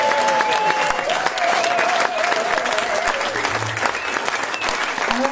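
An audience at a live folk concert gives a sustained round of applause, with dense, even clapping from a full room and a voice faintly audible over it.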